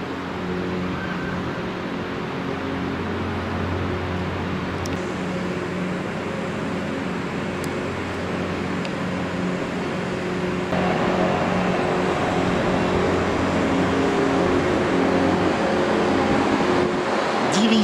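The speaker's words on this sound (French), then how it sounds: "Peut-être percevez-vous le bruit de voiture, il s'agit de la rocade nord du Havre." Car traffic on the northern ring road of Le Havre makes a continuous distant drone heard from a park, a low, even rumble that swells slightly toward the end.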